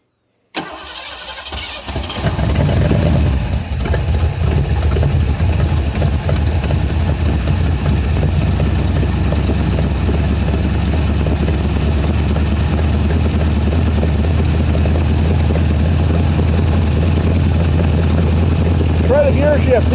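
A 1973 Ford Gran Torino Sport with a 351 Cleveland V8, off the road for 30 years, cranks and catches after a brief pause, then runs loud and steady with a deep rumble while someone talks nearby.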